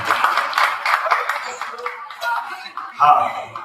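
Audience clapping at a Chhattisgarh film promotion event, scattered hands mixed with talk, fading mid-way before a short louder burst near the end.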